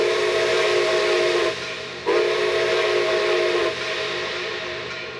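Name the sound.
C&O J3a Greenbrier steam locomotive whistle blasts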